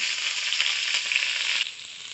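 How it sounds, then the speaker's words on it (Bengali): Diced bottle gourd hitting hot oil, a bright close hissing sizzle that holds steady before easing to a softer fizz near the end, no voices. "তেলটা একটু গরম হয়ে গেলে আমরা এই যে লাউটা দিয়ে দেব।"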